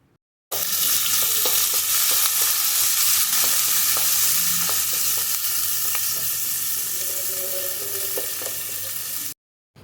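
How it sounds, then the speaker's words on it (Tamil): Chopped onions and garlic frying in hot oil, a loud continuous close sizzle with scattered stirring clicks and scrapes throughout, no talking. "இப்போ இந்த டைமில் நம்ம கட் பண்ணி வச்சுருக்கிற 2 வெங்காயத்தையும் சேர்த்து நல்லா வதக்கிக்கலாம்."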